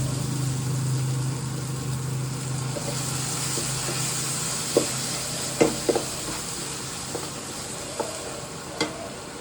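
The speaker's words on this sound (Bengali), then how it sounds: "আজকে যখন এই চিকেনটা রান্না করছি না" Chicken stirred and fried in a pan, a steady sizzling hiss throughout with a low hum in the background and several sharp scraping clinks of a utensil against the pan near the end.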